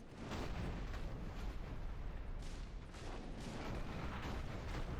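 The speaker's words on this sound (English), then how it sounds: "The Azonites have cannons sighted on us." Cannon fire in the video game Dungeon Siege III, heard as a dense, continuous rumble of booms and blasts rolling steadily throughout, loud and unbroken.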